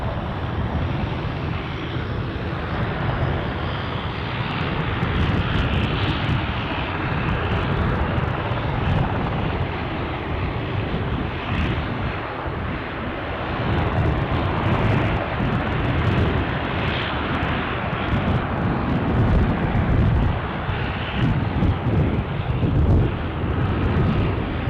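Dash 8 turboprop aircraft at Aberdeen Airport, a steady loud engine drone and roar sustained close by throughout, with a slight dip midway before swelling again.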